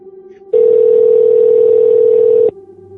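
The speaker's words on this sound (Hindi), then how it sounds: "माधवी ने कांपते हाथों से कार्ड पर छपे इमरजेंसी नंबर पर कॉल किया।" A steady electronic telephone tone sounds loud and unbroken for about two seconds, with a faint hum before and after.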